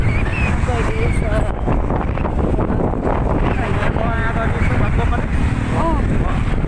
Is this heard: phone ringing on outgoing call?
no